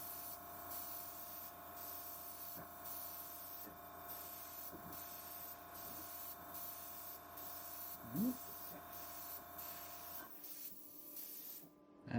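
A Gaahleri Swallowtail airbrush lays down a coat of red paint with a steady, close hiss of spray running nearly the whole time, cutting off near the end.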